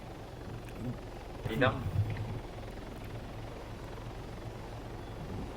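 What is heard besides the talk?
helicopter in Arma 3 video game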